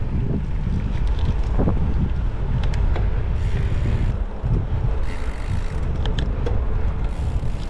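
Strong wind roars over the microphone while cycling along the Danube river, a constant, loud, buffeting rush with gusty swells and no speech.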